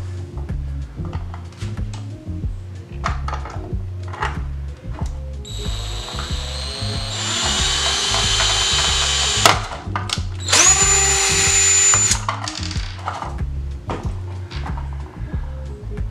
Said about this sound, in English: give it a tap with the drill